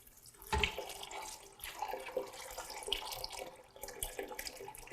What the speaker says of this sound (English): put your soaked peas in a nice big pot and cover it with a couple of inches of water